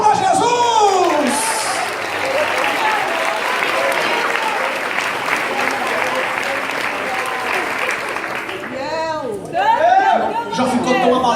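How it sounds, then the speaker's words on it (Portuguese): A church congregation at a Portuguese-language worship service bursts into loud, sustained applause, with scattered whoops and cheers, while a voice speaks over the clapping near the start and again at the end. "Aplauda Jesus."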